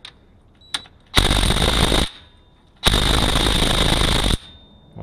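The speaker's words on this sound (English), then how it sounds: "I'm using a small impact here with a 13 mil socket on it." A small impact wrench fitted with a 13 mm socket rattling on transmission pan bolts, two loud sustained bursts of hammering about a second each, close up, separated by a short pause.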